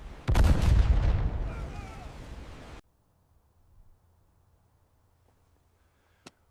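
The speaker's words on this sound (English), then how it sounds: "American destroyers would fire hundreds of shells at a single target" A single heavy, close boom of naval artillery from American destroyers shelling a target, rumbling for a couple of seconds before cutting to near silence with a faint distant pop.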